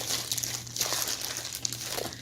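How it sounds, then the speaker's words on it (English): A plastic zipper bag holding leftover hot glue pieces crinkles and rustles steadily while being handled and sealed, a close, continuous crackling with small sharp peaks over a low steady hum. "I can just pick this up, seal it in my zipper bag"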